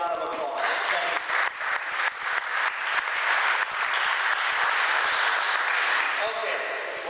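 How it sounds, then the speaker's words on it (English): Sustained applause from a conference audience thanking event sponsors at an entrepreneurship keynote, a dense wash of many hands clapping at steady loudness for several seconds with no talk over it. "let's give the sponsors a big round of applause"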